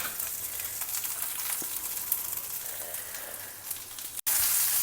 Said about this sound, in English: Saute everything well together till the cashews are also well roasted.